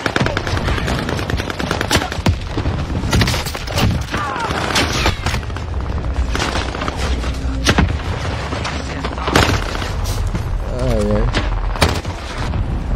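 Rapid automatic gunfire bursts and scattered single shots from the online shooter Warzone Rebirth ring out loud and close over a dense background of game noise, with a player's voice heard in places.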